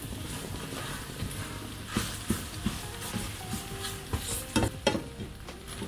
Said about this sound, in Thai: ลงไปใส่กุ้งตัวเล็กลงไปผัดต